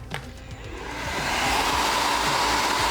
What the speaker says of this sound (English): as soon as I let go, you'll hear it come on